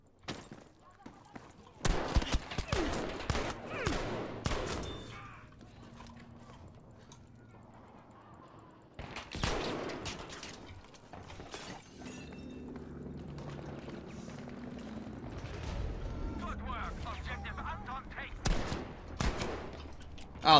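Gunfire in a Battlefield 5 match on the Metro map: bursts of shots crack loudly in clusters, with a long quieter stretch between them and people talking throughout.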